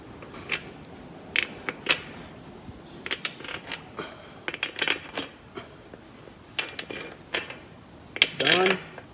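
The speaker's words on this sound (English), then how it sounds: "So we gotta flip all these bolts around" Metal bolts clink and rattle as they are flipped around on a tractor tire and wheel assembly, close irregular clanks and scrapes in a steady run of handling noise.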